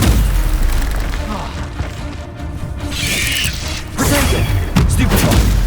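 Incendio fire spell blasts in Hogwarts Legacy: booming bursts and crackling whooshes of flame land one after another amid busy combat noise, fairly loud and near.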